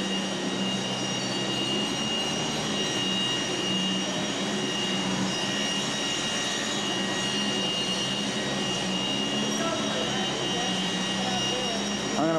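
An aircraft engine runs nearby with a steady, loud, continuous roar and whine that holds level throughout. A voice talks faintly underneath the noise.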